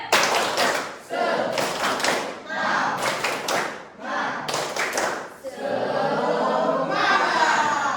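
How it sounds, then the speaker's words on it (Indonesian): A school class claps a rhythmic routine in bursts, loud and close, with a brief pause between patterns before a steady stretch of clapping. "Ibu Pipin, tepuk semangat."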